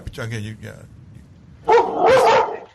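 A dog barks in a short burst of loud, close yips toward the end, after a brief stretch of people talking in a brewery setting.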